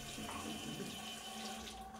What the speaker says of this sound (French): un robinet qui coupe l'eau lorsqu'on enlève nos mains